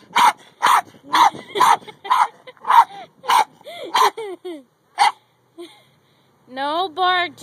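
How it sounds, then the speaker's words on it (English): A puppy gives a string of short, sharp yips and barks in quick bursts close by, then drops into a few quieter whimpers before one last wavering, whiny bark. "No bark, Jack."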